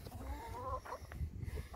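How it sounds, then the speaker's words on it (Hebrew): Chickens feeding at a water trough give short clucks and low throaty calls close by, with some faint scuffling and background noise and no talking. "הנה, תראו, תרנגול תפס חתיכה, בולע אותה."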